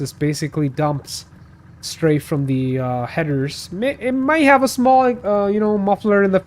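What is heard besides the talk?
No distinct noise like a dog, phone or traffic.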